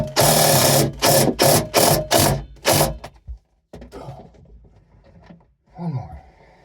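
Screws driven with a power drill while installing 15-inch Synergy WFO subwoofers in a Honda Accord: several loud, close bursts of motor whirring in quick succession, then quieter handling noises and a brief voice.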